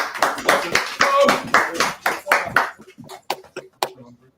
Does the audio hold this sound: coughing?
no